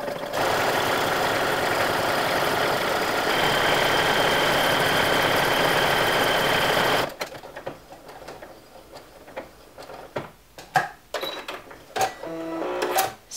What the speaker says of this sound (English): all I have to do is press down the presser foot, and the buttonhole is going to stitch itself out